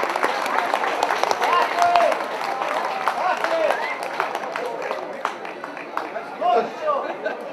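Audience applause for the president at the first Pčinjsko evening cultural event in Karavukovo, a steady crowd clapping with background hubbub throughout, moderately loud and sustained.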